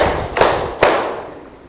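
Schoolchildren in a classroom clap together on command, with two crisp, loud claps spaced roughly half a second apart heard close by, then near-silence.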